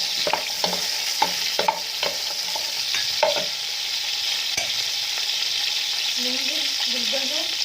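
Onions dropped into hot oil in a pan, a loud, dense, steady sizzle with a few clatters of stirring early on and a voice speaking briefly near the end.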